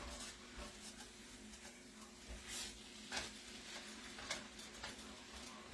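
Meat cooking in a pan that is not yet hot, its juice boiling out, heard as a faint steady sizzle and bubbling with scattered small ticks and pops, close and quiet.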